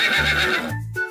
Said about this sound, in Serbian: Konj kaže.